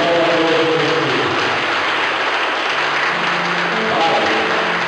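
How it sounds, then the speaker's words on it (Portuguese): A church congregation applauding strongly in praise, a steady, dense wash of clapping that runs without a break, with a voice speaking over it. "aplaudindo bem forte o nome do nosso Senhor e Salvador Jesus"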